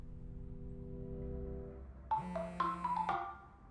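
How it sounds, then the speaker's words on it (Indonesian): A mobile phone rings in a film scene, a melodic ringtone phrase starting partway through and sounding moderately loud over a quiet background hum for about a second. "Tak lama ponsel Min-hee berdering."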